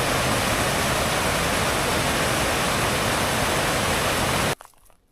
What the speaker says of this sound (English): This is a beautiful creek here.